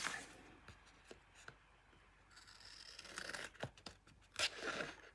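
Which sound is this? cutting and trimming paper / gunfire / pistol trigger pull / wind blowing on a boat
cutting and trimming paper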